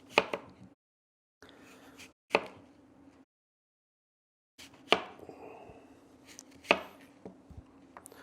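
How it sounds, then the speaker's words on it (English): A knife chops through an apple on a cutting board in a few sharp, close knocks with pauses between them, clear and separate with no talking. "we're going to just chop up a little bit of the apple here"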